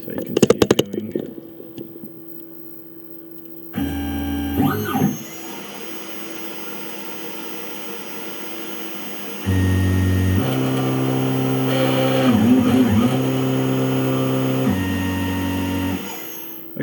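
A CNC machine runs milling-to-turning G code, its steady motor whine shifting pitch as moves change, with a louder humming stretch toward the end and brief mechanical clicks at the start.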